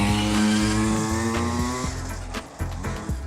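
A motorcycle is ridden hard, its engine screaming at high revs with a sharp harmonic whine, then dropping and stuttering through gear changes and blips, loud and close.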